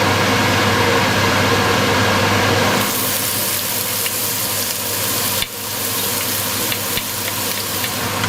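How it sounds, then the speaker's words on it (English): Onion and garlic sauté in hot extra virgin olive oil in a pot over medium heat, a steady loud sizzle with a brighter hiss in the opening seconds and a sharp clatter midway, no talking. "we're gonna saute the onion and the garlic."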